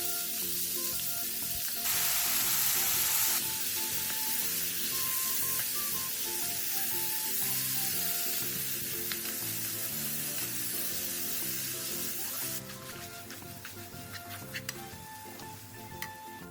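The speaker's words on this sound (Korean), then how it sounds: "팬에 기름을 두른 뒤 양파, 다진 마늘 1, 간장 1, 고추장 1, 고춧가루 2분의 1을 넣고 양파가 살짝 흐물거릴 때까지 볶아주세요" Sliced onion with minced garlic, soy sauce, gochujang and chili flakes stir-frying in an oiled pan: a steady sizzle runs throughout, with a louder hissing burst early on and faint clinks of utensils against the pan.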